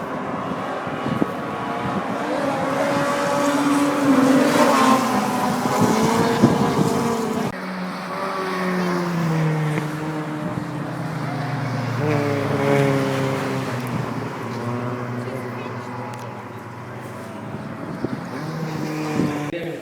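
Rally race cars drive on ice, their engines roaring loudly and continuously, the pitch climbing and falling as they rev through the run, with a hint of wind in the background.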